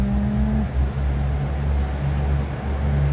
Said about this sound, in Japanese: キハの音だ、すごい、かなりうるさいね、ディーゼルエンジン